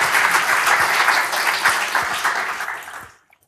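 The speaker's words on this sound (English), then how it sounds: "let's have a big round of applause for Pino" Conference audience applauding a speaker's introduction, a dense, even burst of clapping that holds steady, then fades and stops abruptly, leaving near silence with a couple of faint knocks.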